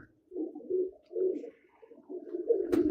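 A pigeon coos softly nearby in a series of low, rounded phrases with short pauses between them, ending with a brief sharp click.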